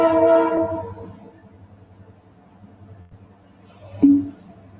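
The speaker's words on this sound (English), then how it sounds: "the train's coming." A train horn sounds through a room, starting as a moderate sustained blast that fades, leaving a low rumble, with a short sharp horn note near the end.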